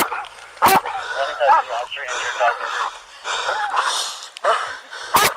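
A dog makes short snorting, panting and yipping sounds close by, mixed with gasps and people talking over it in an outdoor police custody scene.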